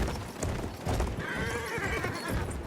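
A horse in the video game Battlefield 1 whinnies loudly over the clatter of its hooves, a close, drawn-out neigh rising midway through the short burst.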